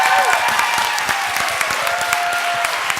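A room of party supporters gives a loud, sustained round of applause with a few scattered cheers, celebrating a newly elected county controller; crisp, dense clapping fills the whole stretch with no talking.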